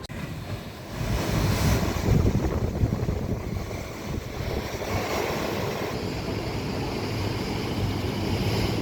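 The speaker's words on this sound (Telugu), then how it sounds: "టెంపుల్ వెనకాల చూసినట్లయితే మొత్తం ఎక్కడ చూసినా సముద్రం సముద్రం సముద్రం సముద్రం" Ocean waves roll behind the temple at Kanyakumari, India's southernmost point, a broad continuous roar of surf mixed with heavy wind buffeting the microphone, swelling after the first second and holding steady with no talk.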